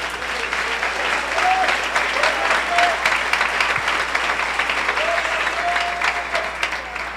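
A church congregation applauds loudly to God during a Spanish-language sermon, and the dense, steady clapping runs for the whole stretch. Raised voices and cheers rise now and then beneath it.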